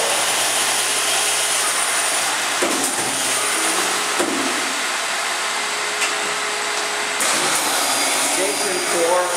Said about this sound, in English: drilling a main needle down hole while a cross hole is being drilled